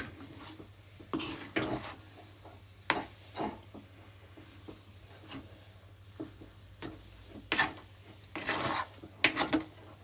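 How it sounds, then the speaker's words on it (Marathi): Spoon scraping and stirring moong dal halwa with ghee in a pan over a low flame, giving a series of short, separate scrapes and clinks at moderate level with quiet gaps between them. "यात मी आता दोन चमचे तूप टाकते"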